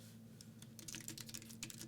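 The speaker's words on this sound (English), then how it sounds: "So we'll just hit return and we'll do a little bit of typing." Typing on an Arteck Bluetooth keyboard paired to an iPad Mini: a quick run of soft, light key clicks in an irregular rhythm, close but quiet, over a low steady hum.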